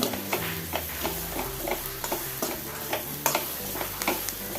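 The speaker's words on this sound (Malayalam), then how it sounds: "അടച്ചു വെച്ചൊന്ന് തുറന്ന് ഇനി ഒന്ന് ഇളക്കി കൊടുക്കുക" Beetroot thoran is stirred in a pan over a low sizzle. A spoon makes quick, rhythmic scraping and tapping strokes, close and fairly clear, with no one talking.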